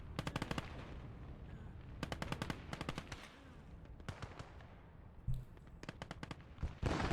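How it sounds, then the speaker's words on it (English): Rapid bursts of automatic gunfire and single sniper shots crackle through a World War II battle at Stalingrad in the game Gates of Hell Ostfront, several volleys separated by short pauses, fairly distant and faint. "The sniper's finally getting some shots into the middle there"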